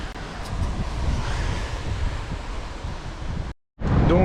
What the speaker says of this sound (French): aujourd'hui il y a tellement de vent, c'est un truc de fou